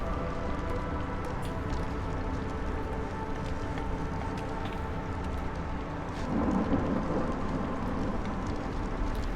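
Steady rain hisses through a thunderstorm in the city-building game Against the Storm, a continuous wash of downpour with a faint low rumble swelling briefly near the end, no voices.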